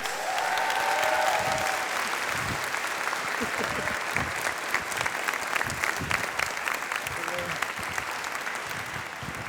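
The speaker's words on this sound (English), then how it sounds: "please, your applause and appreciation for my good pal Natalie Haynes." Warm audience applause greets a comedian at a stand-up show, a full steady round of clapping from a crowd with a few scattered voices mixed in, fading gently toward the end.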